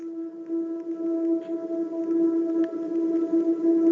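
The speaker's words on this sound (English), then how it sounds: "So I added this mystic drone that's hitting the tonic of the scale." A mystic synth drone holds steadily on the tonic note, a sustained tone with a faint wavering shimmer and soft airy texture, continuous and fairly loud throughout, with no voices.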